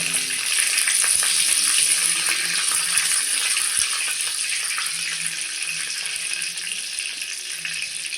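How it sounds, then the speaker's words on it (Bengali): Panch phoron and bay leaves sizzle in hot oil for a khichuri tempering, a loud, steady hiss with fine crackles that holds evenly from start to finish, with no voices. "খিচুড়িতে ফোড়ন দেব, দিয়ে দিচ্ছি পাঁচফোড়ন"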